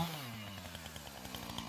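A chainsaw makes the final felling cut through a standing tree, its engine droning loud and steady with a pulsing, rhythmic cutting note throughout.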